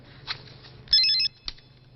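A telephone rings with one short electronic trill burst, framed by faint clicks and light movement in a quiet room. No one talks.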